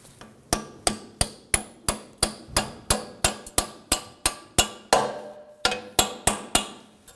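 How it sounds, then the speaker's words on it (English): A hammer strikes a punch about fifteen times in a steady, sharp, ringing rhythm, driving a roll pin out of the inner end of a front CV axle on a 1993-2001 Subaru Impreza 2.2L H4, loud and close with no talking. "I'm going to use a hammer and a punch just on the inside of the axle"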